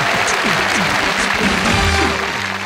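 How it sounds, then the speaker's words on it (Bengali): Audience applause at a stage show in Bhola Charfasson, a dense, loud, continuous clapping from a large crowd that holds steady and fades slightly at the end. "তাদের জন্য করতালি"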